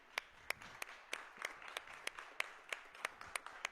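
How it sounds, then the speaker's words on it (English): A competition audience at the Lunabotics Challenge applauds the Purdue University student team: a faint, fairly slow run of single sharp claps at an even pace, distant and thin rather than a full crowd roar. "let's give the Purdue University students a big round of applause for a great year"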